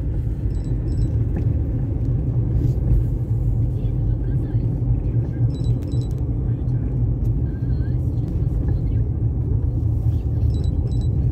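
A car with Hankook winter tires rolls slowly over a road covered in bare ice, a steady low rumble of engine and tire noise that continues throughout, close and fairly loud.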